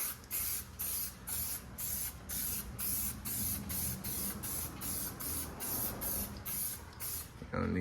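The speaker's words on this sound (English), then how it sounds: "Spray a little bit on the tires." Coverall tire shine sprayed onto a car's tires, probably a 392 Challenger, in a quick series of about a dozen short hissing spray bursts in steady rhythm, close and fairly quiet.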